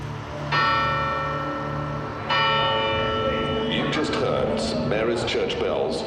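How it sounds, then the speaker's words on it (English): Church bells on the Isles of Scilly ring out two o'clock: two loud, resonant strikes about two seconds apart, their long ringing tones overlapping and fading while a voice talks over the top. "Church bells chime for 2 o'clock."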